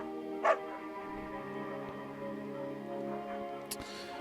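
A beagle in the video game Firewatch gives one sharp bark, then a fainter yip a few seconds later over a steady ambient musical drone.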